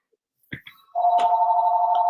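A phone begins ringing with a sustained electronic warble after a couple of small clicks, loud and close, continuing without pause.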